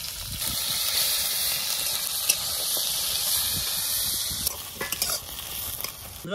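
Chopped onion sizzles steadily in hot oil with whole cumin and dried chillies in a village-style kitchen, a constant bright hiss with occasional stirring scrapes and small pops toward the end.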